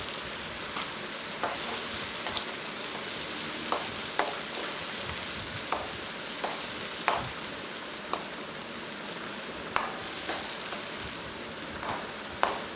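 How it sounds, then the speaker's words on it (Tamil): Masala spices fry in hot oil for a fish curry, a continuous bright sizzle with crackling pops and occasional stirring scrapes, close and steady with no talk. "மசாலா நல்லா எண்ணெயில் வதங்கி வரட்டும்."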